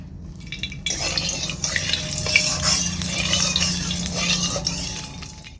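Dried red chillies and bay leaves sizzle and crackle in hot oil at the start of a five-spice tempering for olive pickle, a steady hiss that keeps up close, with sharper pops and spatter on top.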